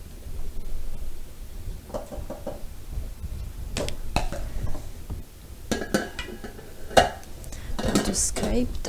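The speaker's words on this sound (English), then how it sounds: "So now we'll fold the egg whites mixture in and we'll still mix it very gently." A spoon folds egg white mixture into a thick tiramisu batter in a bowl, giving soft scraping strokes and intermittent light clinks against the bowl, close by.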